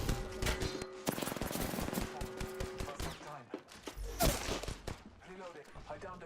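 Hemlok rifle fire in a video game, dense bursts of shots crackling across the clip alongside other game effects and busy action sounds, with a voice talking at moments.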